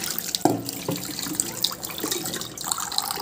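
Water poured and splashing in a sink or container, with irregular splashes and drips and a brighter stream near the end, close and moderately loud.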